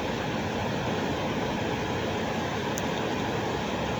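A train crossing the Jamuna Bridge in Bangladesh, heard from inside a carriage, gives a steady, dense rumble and rattle that holds constant throughout with no voices.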